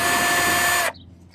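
A power tool whines steadily for under a second while backing a screw out of a Genesis Coupe fog light bezel, then cuts off abruptly, leaving near silence.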